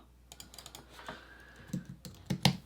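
Fingers typing on a computer keyboard, an irregular patter of light close clicks building to a few firmer, louder keystrokes near the end, with no voice.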